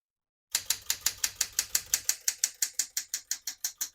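Typing on a 1969 Smith-Corona Classic 12 portable typewriter: about eighteen crisp, evenly spaced key strikes in a quick steady rhythm, close and clear, with a low mechanical hum under the first half and no talking.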